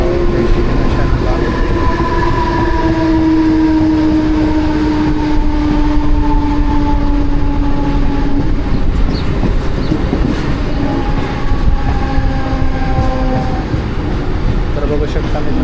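A Mumbai local train runs between CSMT and Govandi with a loud, continuous onboard rumble and wheel noise, plus drawn-out squealing tones from the rails or brakes rising and fading throughout.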